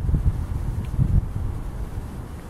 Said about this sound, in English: There goes the wind gusts.